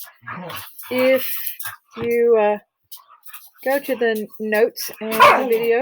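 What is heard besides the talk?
dogs playing and barking in the background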